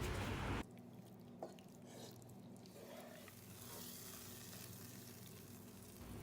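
Meat, mutton or similar in small pieces, sizzles as it fries with browned onions in a pan for a Moroccan tajine stew, a soft steady crackle with occasional stirring and a brief louder burst at the start.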